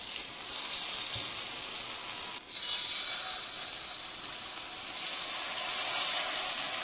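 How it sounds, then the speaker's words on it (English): Salmon fillets seasoned with salt and pepper sear in a pan of hot butter, giving a steady, close, even sizzle that holds throughout without a break, with no voices over it. "the fillets are seared, creating a perfect golden brown crust that locks in moisture and flavor"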